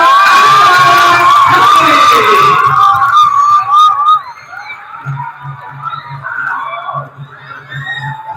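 Schoolchildren at an Islamic primary school theme event cheer and shout loudly as a crowd, with a shrill whistle-like tone over the first four seconds; the noise then drops to a lower, rhythmic crowd murmur with steady clapping beats.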